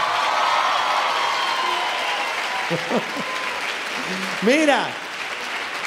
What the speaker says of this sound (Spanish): he hecho un aplauso fuerte para él